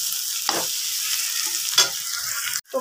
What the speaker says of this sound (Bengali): এটা আরেকটু ভেজে নিই, ভাজা অনেকটা হয়ে গেছে